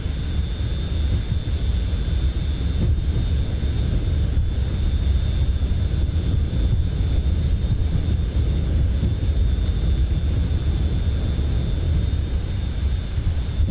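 Jet engines of a Boeing 737-500 in Flight Simulator 2024 roar steadily at takeoff thrust, a loud continuous rumble with a thin high whine running through it, and no talking.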